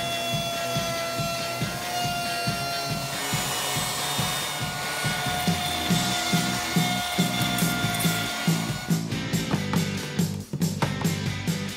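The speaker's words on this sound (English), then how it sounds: "Now I'm going to cut the groove here with the router, and you'll see how we do." A Ryobi router cuts a rabbet groove into wood, giving a continuous rough, grinding whir with rhythmic rasping pulses throughout, close and steady with no talking.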